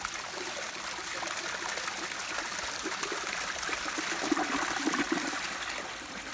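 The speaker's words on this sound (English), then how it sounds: "Here's a flush." A 1961 Standard Cadet toilet, about sixty to seventy years old, flushes with a steady rushing wash of water that swells slightly toward the end, close and continuous with no talk over it.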